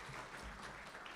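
Audience at a nursing pinning ceremony claps, a soft, distant patter of many hands that stays even and low-level for a moment.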